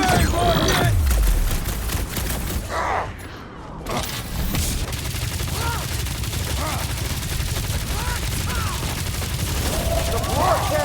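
Bombs exploding in Guardians of the Galaxy, heard as dense, continuous battle noise with booms and crackling impacts throughout, and a short dip in the middle.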